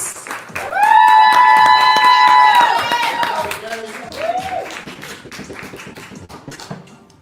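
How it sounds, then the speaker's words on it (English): Crowd clapping for a poet at a birthday poetry slam, loud and sustained at first, then thinning out. A voice speaks over the early part of the applause and a cheer rises above the clapping. "Applause for that poet, not the score."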